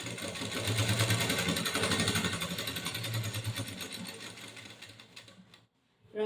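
An electric sewing machine stitches a folded saree hem, a fast, even mechanical whirr with rapid needle clatter running for several seconds, slowing and briefly stopping before starting up again, close and alone.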